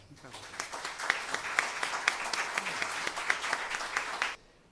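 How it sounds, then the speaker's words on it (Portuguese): Moderate applause from an audience at a coaching and personal marketing lecture, a steady run of overlapping claps with a few sharper individual hits, ending abruptly. "uma salva de palmas para ele."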